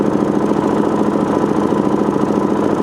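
Gen II four-stroke engine idling during carburetor tuning, a steady close putter with a fast, even firing rhythm and no talking over it.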